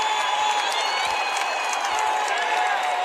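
A Goodhue crowd cheers and applauds at a state boys basketball title game, a dense, steady roar of voices, whoops and clapping that stays loud throughout.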